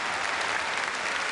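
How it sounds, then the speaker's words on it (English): Stadium cricket crowd on its feet, applauding in a minute-long tribute, a broad, even wash of distant clapping from thousands of spectators with no voices above it. "For a whole minute, they just stood and clapped."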